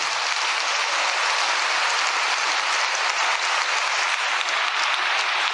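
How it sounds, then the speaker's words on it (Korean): Sustained applause of thanks from a large assembly at a religious convention hall, broad and steady with a dense, even wash of clapping from start to finish and no voices over it. "우리 모두 감사의 박수를 올리게 하십시오"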